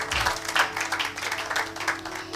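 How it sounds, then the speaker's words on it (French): Church congregation applauding during a sermon: steady, dense clapping from many hands throughout, moderately loud and close, with no speech over it. "Acclamons pour la gloire de notre Dieu, de notre Seigneur."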